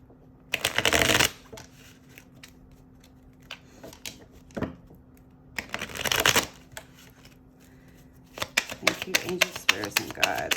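Tarot cards from a clarifying deck being shuffled in three loud bursts of riffling, with quieter handling and a low hum between them.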